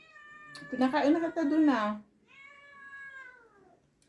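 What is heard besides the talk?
cat meowing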